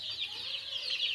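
Chicks on a poultry farm give faint, high peeping calls that overlap in a continuous soft stream, with no talking.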